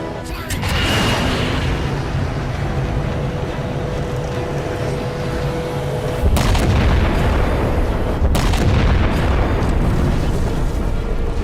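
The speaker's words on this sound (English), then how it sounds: "Target locked. Firing." A huge gun firing in the Halo 4 video game, a loud, sustained booming roar with heavy low rumble, swelling again midway with sharp blast onsets over continuous battle noise.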